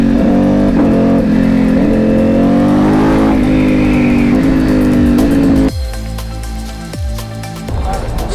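A Ducati Panigale V4 motorcycle engine runs loud and close, a steady droning roar that revs up, then drops to a lower, rougher rumble as it eases off.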